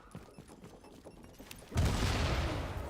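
Grenade explosion in the video game The Division, a sudden loud boom erupting after a stretch of quiet scattered clicks and gunfire, then a sustained rumbling roar to the end.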